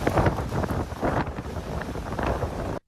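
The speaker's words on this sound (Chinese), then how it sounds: "狂风豪雨呼啸不停，澎湖岸边海水倒灌。" Typhoon Doksuri's storm winds batter the Penghu coast amid heavy rain and seawater surging ashore, a loud, continuous gusty roar buffeting the microphone in waves before cutting off abruptly, with no voices.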